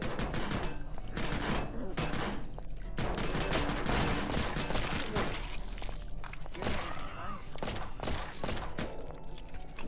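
Rapid, dense video game gunfire with continuous overlapping shots and impacts, loud and busy throughout, mixed with game effects and a voice.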